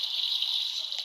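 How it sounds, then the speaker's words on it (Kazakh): Water runs steadily from a tap indoors, a constant close, even hiss with no other sounds. "Ана суды өшіріп бере аласыз ба?"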